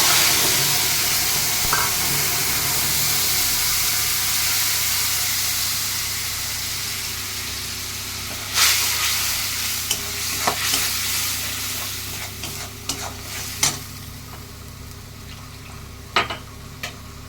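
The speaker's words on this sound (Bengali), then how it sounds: "ওই তেলেই আমি কালো জিরে ফোড়ন দিচ্ছি। তারপরে এই যে জিরে, ধনে গুঁড়ো, লঙ্কার গুঁড়ি, হলুদ গুঁড়ো আর টমেটোটা আমি দিয়ে দিই।" Nigella seeds, ground cumin, coriander, chilli and turmeric with tomato frying in hot oil, a steady close sizzle running throughout with occasional sharper crackles and stirring clinks toward the end.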